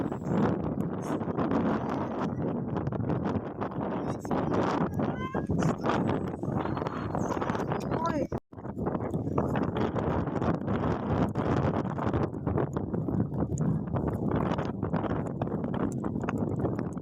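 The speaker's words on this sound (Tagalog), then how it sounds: "As you can hear sa background, ang sobrang lakas talaga ng hangin." Strong wind gusting outdoors in Gloucester, England, roaring into the microphone as a loud continuous rumble with a brief drop midway, while people talk faintly underneath.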